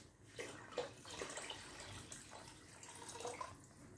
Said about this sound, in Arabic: نزيد شويه الماء اخر.